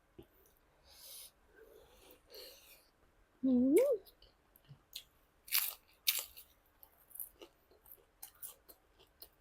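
Crunchy food dipped in shrimp paste being bitten and chewed close up: a series of crisp crunches and clicks, plus a brief hummed vocal sound in the middle.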